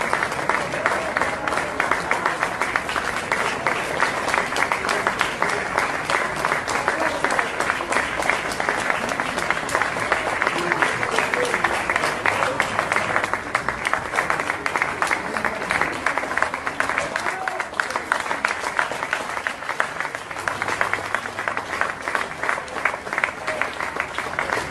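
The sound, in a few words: applause greeting Cuban helpers arriving at an Italian airport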